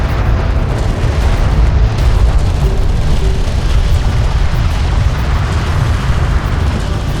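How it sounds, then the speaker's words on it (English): Railgun fire and explosions roar in the video game Homeworld: Deserts of Kharak, a dense, loud, unbroken wall of low booms and rumbling blasts that runs the whole time. "Enemy railgun firing on friend."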